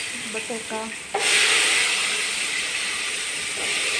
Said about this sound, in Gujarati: બટેકા વઘારી નાખ્યા છે કમ્પ્લીટ.